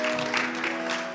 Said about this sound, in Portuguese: se coloquem de pé e aplaudam o Senhor bem forte